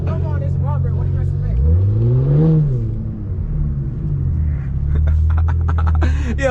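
A JB4 tuned Infiniti Q50 engine revs hard while drifting, rising to a loud peak and falling back to a rumbling drone, with tire and road noise and people talking over it inside the car.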